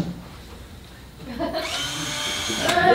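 Coral-sampling drill used for taking coral cores, starting with a low rumble and then spinning up into a steady, high whining drone that grows louder toward the end, with voices faintly underneath.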